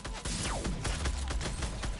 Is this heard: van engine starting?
no